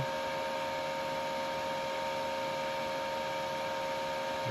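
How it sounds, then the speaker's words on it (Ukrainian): Cooling fan of a Spika Multi GMAW 250S eLCD MIG welding machine running after power-on, a steady close whirring hum with constant tonal whine, unchanging throughout and heard alone. "запустився вентилятор"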